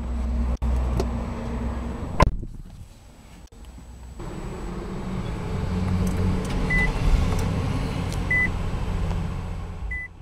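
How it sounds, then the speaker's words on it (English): A 2013 Nissan Altima fires up with its push-button start: a sharp click and brief crank lead into a steady, low engine idle. Soft electronic chimes beep a few times in the background afterwards. "Now let's try to start the car."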